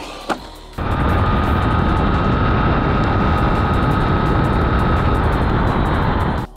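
A Traxxas Fiesta ST Rally RC car on 2S power runs at full throttle, a loud continuous high electric whine that starts abruptly after a short click and holds steady for about six seconds before cutting off.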